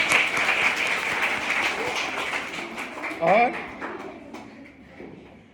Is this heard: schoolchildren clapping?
yes